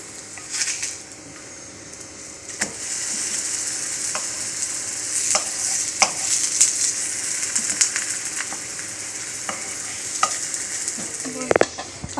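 Lachha paratha roasting in oil on a hot pan, with a steady, close sizzle and occasional sharp clicks and scrapes of utensils against the pan.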